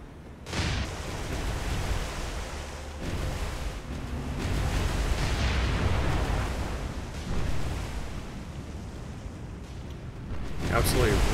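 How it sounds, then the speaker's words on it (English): Heavy 15-inch naval shells bursting in the video game War on the Sea: deep, booming explosions roll into a sustained rumbling wash, with a fresh sharp blast near the end. "Those are 15-inch shells."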